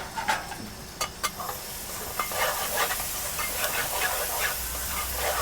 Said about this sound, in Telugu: ఉల్లిపాయలు అయితే వేగుతున్నాయి గోల్డ్ కలర్ రావాలంట